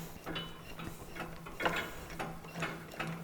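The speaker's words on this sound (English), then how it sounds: "Taking our tool here, we then tighten down the screws." A hand tool tightens the screws on a 200-litre STS DME01 barrel mixer, producing faint, close ratcheting clicks in an irregular rhythm over a low steady background hum.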